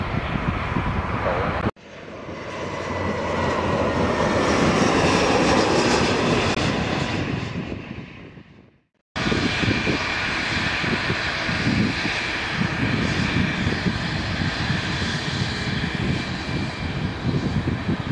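Airplanes at Lisbon Airport: a loud sustained engine roar swells and fades as one aircraft passes, then after a brief cut another steady near engine roar continues without talk.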